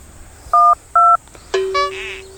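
Two steady dual-tone keypad beeps from a phone being dialed, each about a quarter second long with a short gap between them, followed by a brighter ringing tone. Close and clear, with no one talking.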